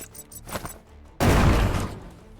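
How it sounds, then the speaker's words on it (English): Grenade explosion in the video game Shardpunk: a sudden loud, broadband blast erupts mid-clip and rumbles on, with faint game sounds before it. "I'm going to have you throw the grenade because you're farther away and thus a little bit safer."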